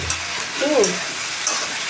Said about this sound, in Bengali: আলু দিয়ে পেঁয়াজ দিয়ে ভাজছি